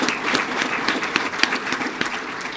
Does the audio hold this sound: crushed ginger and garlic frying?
no